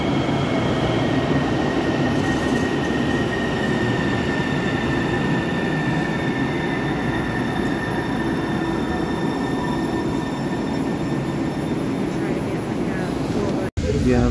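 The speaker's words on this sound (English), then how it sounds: "There's our train." A train pulling into a station in Seattle, a steady loud rumble of rail cars with faint wheel squeal, running continuously throughout with some background voices.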